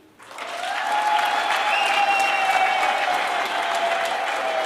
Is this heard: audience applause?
yes